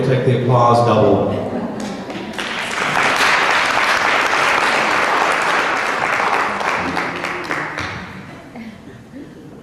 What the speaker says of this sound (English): Gloria's in Cambridge, but David will take the applause double.